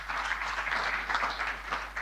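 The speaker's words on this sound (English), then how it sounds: "Let's give him a round of applause, ladies and gentlemen." Steady applause from a conference audience at an annual general meeting's official opening, many hands clapping in a continuous, moderately distant wash with slight swells throughout.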